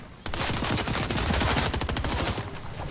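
Rapid, sustained automatic gunfire in the video game Fortnite, loud and close, a dense stream of shots running almost continuously for a few seconds with no talking.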